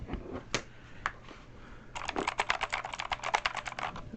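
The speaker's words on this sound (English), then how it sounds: "it does have actual Cherry MX Blue key switches, which you can hear" Close, crisp clicky keystrokes on Cherry MX Blue switches: a few isolated taps, then a fast run of typing on a split mechanical keyboard with sharp, bright clicks.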